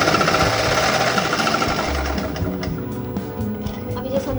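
Sewing machine stitches a folded one-inch fabric strip into a drawstring for a collar-neck kurti: a dense, steady mechanical chatter that runs for the whole stretch, fairly loud and close.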